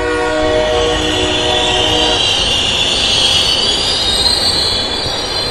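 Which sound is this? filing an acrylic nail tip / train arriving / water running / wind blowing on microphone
train arriving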